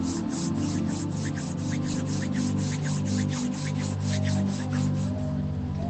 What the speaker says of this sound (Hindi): rub your palms